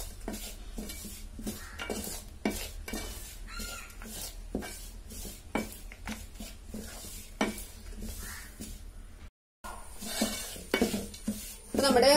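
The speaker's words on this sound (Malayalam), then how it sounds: "അപ്പൊ നമ്മൾ കൈയെടുക്കാതെ ഇങ്ങനെ ഇളക്കിക്കൊണ്ടിരിക്കണം കേട്ടോ" Wheat flour and coconut roast in a pan over low heat under constant stirring, a steady run of rhythmic scraping and clinking strokes against the pan with a faint sizzle beneath, cut by one brief silent gap.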